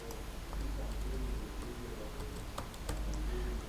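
Typing on a computer keyboard, soft scattered key clicks in an irregular rhythm, faint and close, with a person talking quietly underneath.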